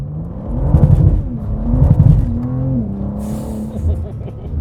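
A rear-wheel-drive car doing a burnout with wheel hop, its loud engine revving in two surging bursts with a rapid juddering pulse, then settling into a steady drone near the mic.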